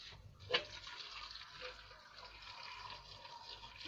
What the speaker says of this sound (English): Then I will add water.